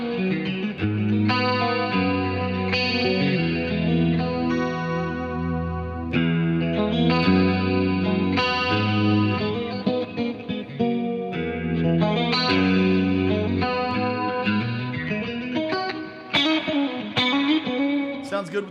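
Electric guitar with a clean tone through a Sir SL68 plexi-style amplifier, a flowing passage of chords and single notes with chorus-like shimmer, loud and close, running steadily for several seconds.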